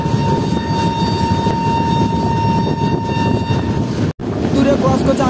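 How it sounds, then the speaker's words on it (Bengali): Ajmer–Howrah express train running in the distance, a steady rumbling roar with a faint whine, heard from inside another moving train, with a brief dropout near the end. "দূরে ক্রস করছে আজমের হাওড়া কোলপুর এক্সপ্রেস"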